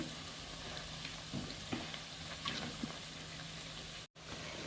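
Soya chunks (meal maker) fry in a pan with a steady, fairly quiet sizzle that holds throughout, broken only by a few soft crackles and one brief dropout near the end.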